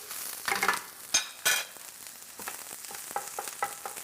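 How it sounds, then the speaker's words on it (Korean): Green onion, garlic and ginger stir-fried in a wok give a soft, steady sizzle with scattered clacks and scrapes of a utensil stirring against the pan. "파마늘 생강 넣어갖고 파마늘 향이 날 때까지 돌돌 볶아주시면 되고요"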